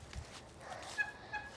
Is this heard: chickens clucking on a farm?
yes